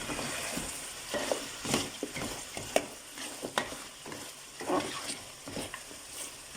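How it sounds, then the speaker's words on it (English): Mutton pieces fry in a pot after the braising water has cooked off, giving a steady sizzle broken by scraping, clattering stirs of a spoon against the pot. "We can see that the lamb has been frying up after all the water evaporated."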